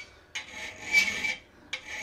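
A hand file rasps across a metal planishing foot chasing tool, giving a few close, bright scraping strokes, one short, one longer and sustained, then the start of another.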